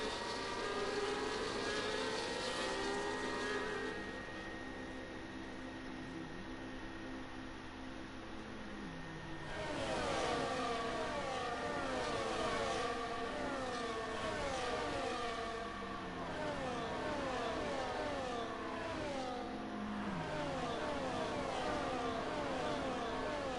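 Engines of racing cars in a racing video game on the Belgium circuit, several cars heard under safety car conditions with layered rising and falling engine tones and gear changes, moderately loud with no talk.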